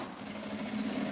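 A sewing machine runs steadily while stitching a seam on a small mini bag, a brief continuous whirring stretch close by with no voices.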